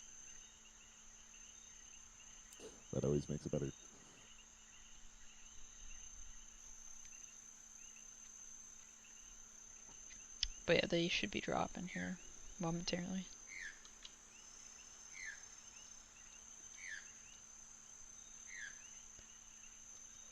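Loud, steady high-pitched chirping of crickets as an ambient environmental effect in the video game Arma 3, a constant droning layer that runs beneath intermittent voice chat.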